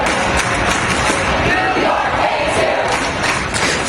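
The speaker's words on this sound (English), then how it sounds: "Thousands of protesters have been standing around Trump Tower since Sunday, shouting and holding up anti-Trump signs." Large crowd of anti-Trump protesters shouting outside Trump Tower, a dense, continuous roar of raised voices and yells throughout, loud and close, with some mixed talk.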